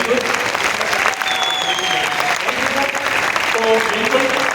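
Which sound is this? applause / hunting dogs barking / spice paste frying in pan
applause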